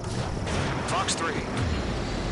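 Missile launch in the combat flight game Ace Combat 7, heard as a dense roaring burst with jet engine noise and brief electronic tones, loud and continuous, with radio voice chatter over it.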